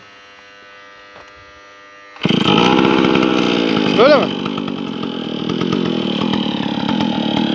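A petrol earth auger (burgu makinesi) engine fires up abruptly and runs loud and close with a buzzing, chainsaw-like drone, briefly revving higher before settling into a steady roar; someone speaks briefly over it.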